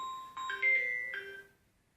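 A mobile phone gives a brief electronic ringtone, a few quick melodic tones, fairly faint.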